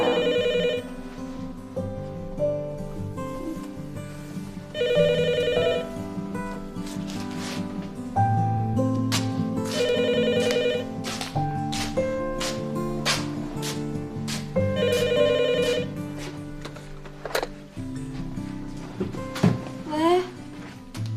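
A phone ringtone sounds in repeated bursts, about every five seconds, at fairly close range, while people talk and move around it.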